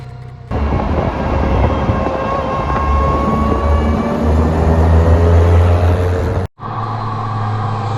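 A supercharged VW Polo G40 roars loud and close as it accelerates through a tunnel, with a sustained engine drone and supercharger whine that cut off abruptly near the end before the engine returns.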